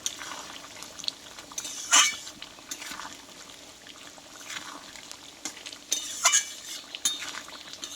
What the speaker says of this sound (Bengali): গরম মশলা দিয়ে আমি একটু নাড়াচাড়া করে নেব